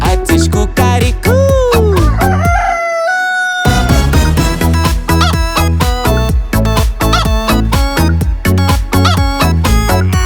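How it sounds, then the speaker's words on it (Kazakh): A rooster crows over a loud, bouncy children's song about farm animals, the call rising and then holding a long note while the music briefly drops out. "әтеш кукарику"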